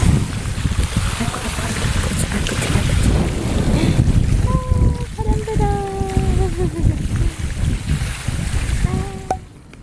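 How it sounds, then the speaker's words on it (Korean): Strong wind buffets the microphone at an outdoor swimming pool, a loud rumbling roar that gusts continuously, with voices and short vocal sounds heard over it. "바람 분다"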